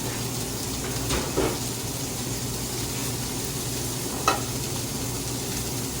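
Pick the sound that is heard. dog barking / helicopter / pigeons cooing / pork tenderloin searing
pork tenderloin searing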